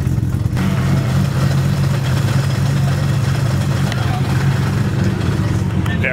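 A car engine idles with a lumpy, uneven low rumble at a Queensland autumn Matsuri car event, loud and continuous with background chatter and crowd noise.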